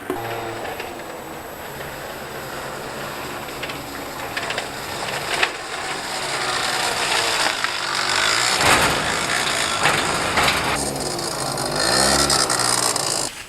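A domestic water pump runs steadily with a dense mechanical hum and rattling, growing louder and rougher partway through, with no talk over it.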